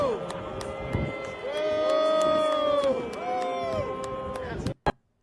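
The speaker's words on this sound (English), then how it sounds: "So everyone's booing Michelle Wu." A crowd booing Boston mayor Michelle Wu: a dense, sustained wash of many voices jeering and shouting, loud and continuous for several seconds, then cut off abruptly.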